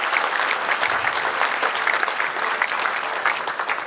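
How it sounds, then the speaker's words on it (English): A luncheon audience claps loudly and steadily, with dense, sustained applause filling the room and no talk over it. "Give a big applause for Dr. Patel and Dr. Ashraf."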